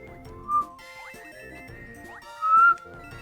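Whistled notes play against the chiming music of a Super Princess Peach speedrun, two brief clear tones rising above a tinkling game soundtrack.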